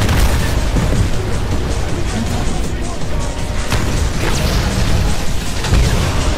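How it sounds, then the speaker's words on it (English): Gunfire hitting a player from behind in Titanfall, a dense, loud barrage of booms and impacts with no break, while someone talks over the continuous noise. "Someone shooting us right in the back."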